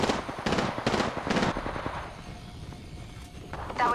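Bursts of gunfire in the shooter game Apex Legends: several sharp, loud volleys in quick succession early on, then a quieter stretch before another shot at the end.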